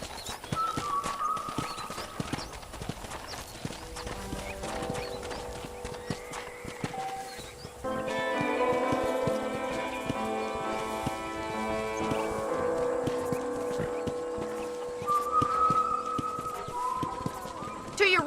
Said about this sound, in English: I picked out a fine horse for you. Come on, boy.